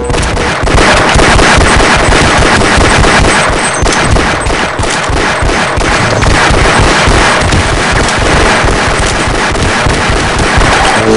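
Sustained machine gun fire in a Half-Life: Opposing Force deathmatch on the op4_rubble map, a dense, loud, continuous stream of rapid shots with metallic clinks running the whole way through, no voices.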